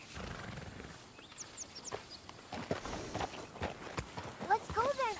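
Horse hooves clip-clopping in Red Dead Redemption 2, as a newly tamed wild horse walks, irregular moderate hoofbeats mixed with other game sounds and chirps, with talk heard over them.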